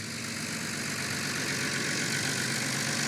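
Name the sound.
tractor engine driving over mud control grid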